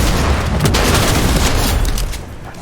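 Loud, dense gunfire in the Fortnite video game, a rapid barrage of overlapping shots and booms lasting about two seconds before tapering off.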